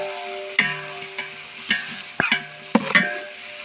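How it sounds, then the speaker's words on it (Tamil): Sliced onions stirred and fried in a pan while cooking biryani outdoors in a forest: a steady soft sizzle broken by several sharp scraping stirs of a spoon against the metal, close and alone. "இப்போ நல்லா வெங்காயம் வதங்குற வரையும் நல்லா கிண்டலாம்."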